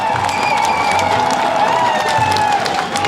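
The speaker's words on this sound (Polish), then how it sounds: "Wielkie brawa!" A crowd cheers and applauds a finisher at the 2013 Gdynia triathlon, the sustained noise steady and loud throughout, with a commentator's voice running over it.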